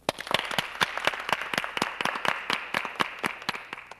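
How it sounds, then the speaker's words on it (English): A small group claps unevenly in a theater, distinct individual hand claps in a loose, quick rhythm at moderate volume, clear and close rather than a dense roar. "And applaud to show your appreciation."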